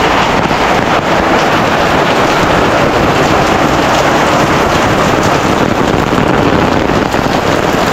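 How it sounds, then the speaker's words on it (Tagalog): Heavy rain pours steadily and loudly throughout, a dense continuous hiss with some wind buffeting the microphone and no voices. "Grabe, lakas ng ulan."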